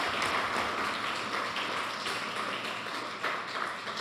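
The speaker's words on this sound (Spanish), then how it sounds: "Reciban este aplauso de bienvenida" Welcoming applause at a church gathering: dense, steady clapping from a crowd, fairly faint and continuous throughout with no talk over it.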